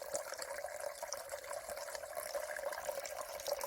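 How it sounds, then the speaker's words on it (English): A small garden water feature built from old copper geysers trickles continuously, a steady bright splashing and gurgle with no pauses, close by and fairly quiet. "Our little water feature from old copper geysers and whatever else we found around the plot."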